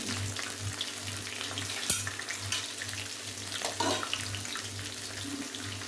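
Green chillies sizzling in a hot pan while sabudana khichdi is cooked, a steady close hiss and crackle with occasional stirring clatter, no talking.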